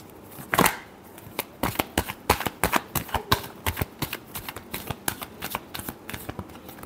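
Tarot cards are shuffled in quick riffling bursts, a steady run of close, crisp slaps and flutters repeating for several seconds with no talk.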